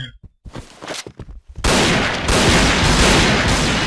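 Gunfire from an M200 gun in the shooting game Point Blank: a string of sharp separate shots at first, then a loud, dense, sustained burst of firing that fills the rest, with no voices.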